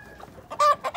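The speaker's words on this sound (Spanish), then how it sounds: "Mira que estas gallinas quieren pelear" Backyard hens squabble in a short burst of loud, sharp clucks and squawks, close by with no talk.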